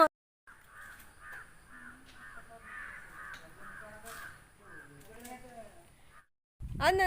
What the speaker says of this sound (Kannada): ಕಾಗೆದು ಸೌಂಡ್ ಕೇಳ್ತದ ನಿಮಗೆ